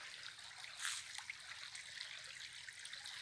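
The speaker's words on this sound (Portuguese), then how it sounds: "Essa água daqui, tá correndo, vendo?" Water trickling and running in a small stream on a rural farm property, a soft, steady babbling with faint splashes, heard alone at low level.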